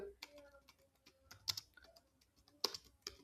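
Computer keyboard typing in quick, uneven clusters of crisp key clicks, close and fairly quiet, with a voice speaking lightly in the background.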